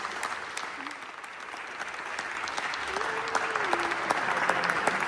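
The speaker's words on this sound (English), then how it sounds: "let's do a nice round of applause again and say thank you to Vanka" Sustained audience applause after a lecture on Croatian immigrants, a dense patter of many hands swelling gradually, with a voice briefly heard under it.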